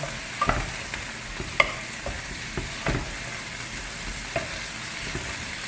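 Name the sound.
string beans added to a pan for adobo, frying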